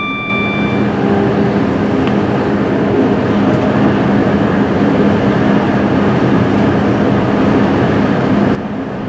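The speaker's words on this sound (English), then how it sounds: "We pass a Transport for Wales Class 158 diesel multiple unit on the 9:28 service from Aberystwyth to Birmingham International." A train roaring steadily past a Transport for Wales Class 158 diesel multiple unit on the line toward Wolverhampton, a loud continuous rumble and rush with faint squeals, cutting off near the end.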